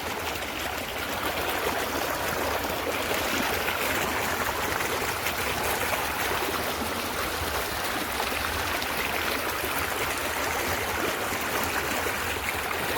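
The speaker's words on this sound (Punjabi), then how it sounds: "ਮੱਕੀ ਨੂੰ ਪਾਣੀ 1899 ਨੂੰ ਇਹ ਆਪਣੀ ਸਾਰਿਆਂ ਤੋਂ ਪਛੇਤੀ ਮੱਕੀ ਆ ਤੇ ਗੱਠ ਲੱਗੀ ਪਾੜਨ ਪਾਣੀ ਚੱਲ ਰਿਹਾ" Irrigation water running steadily into a field of late-sown maize, a continuous rushing, gurgling flow close by with no talk.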